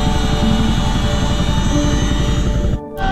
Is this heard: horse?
no